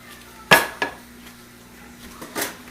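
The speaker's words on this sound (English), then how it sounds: "We plate up our tilapia." Crusted tilapia is plated onto a dish in a rustic kitchen. A sharp clank of utensil on plate is followed by a lighter knock, then quiet, then another clatter near the end.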